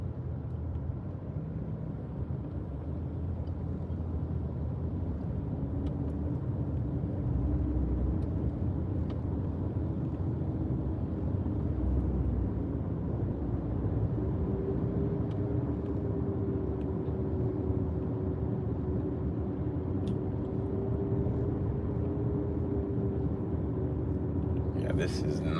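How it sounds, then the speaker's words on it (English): Steady low engine rumble from a car idling and creeping along in a Texas traffic jam, continuous and fairly close, with a faint tonal hum rising partway through and a brief clatter at the end. "Dude, I'm really in a traffic jam right now."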